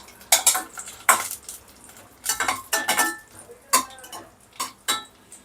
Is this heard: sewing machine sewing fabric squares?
no